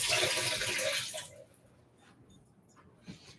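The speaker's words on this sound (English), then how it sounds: "Now we'll wash the hands from the tomatoes." A kitchen tap runs as hands are washed after handling tomatoes, a close splashing hiss for about a second before the water cuts off, leaving a quiet room with small clinks.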